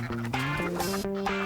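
A short burst of nasal, harmonic quacking from a duck, several quick calls close by with no talking.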